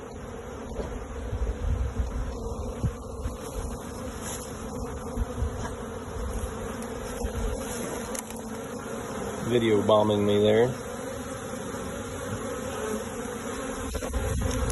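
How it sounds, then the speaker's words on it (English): A constant busy drone of many honey bees buzzing around an opened hive, close by, with someone speaking briefly over it outdoors. "I think these bees have been cooped up for a while."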